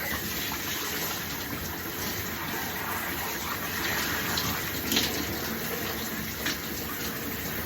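Shower water runs steadily over washed hair as it is rinsed out, a continuous close hiss and splash with small surges and no talking.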